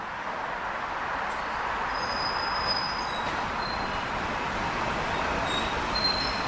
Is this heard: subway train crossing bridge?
yes